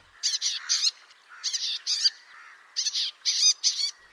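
Harsh, buzzy calls of a bay-backed shrike in three clustered bursts of rapid chirring notes, fairly close and clear with short pauses between groups.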